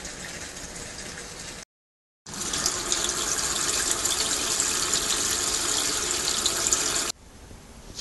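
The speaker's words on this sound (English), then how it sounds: "that's when it drains the water out of this tube here and onto the balcony." Water gushing steadily from a Japanese washing machine's drain tube onto a balcony, a loud continuous rush that stops briefly, resumes, then drops to a quieter trickle near the end.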